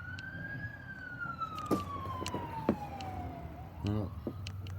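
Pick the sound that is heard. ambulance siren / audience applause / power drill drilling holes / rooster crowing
ambulance siren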